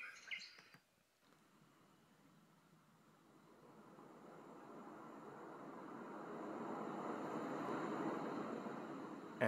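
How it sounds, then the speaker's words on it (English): A white noise machine's ocean-waves setting: a broad, steady rushing hiss slowly swells louder over several seconds like rolling surf, after a short click and pause at the start. "that sounds like the ocean, the sea, with rolling waves"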